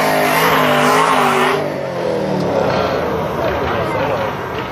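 Chevrolet Camaro at a nighttime drag race, a loud close engine roar with tire squeal that fades slightly after the first couple of seconds, with crowd voices talking over it.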